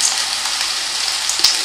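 Pirandai (adamant creeper) sautés in a pan for a chutney, giving a bright, steady hiss of frying with small crackles and one brief scrape near the end.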